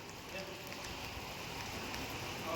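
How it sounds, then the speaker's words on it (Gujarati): Heavy rain pours steadily outside a temple in Nathdwara, a dense, even hiss that fills the whole moment without letting up. "તમે જોઈ શકો છો બહાર જબરજસ્ત વરસાદ ચાલુ છે"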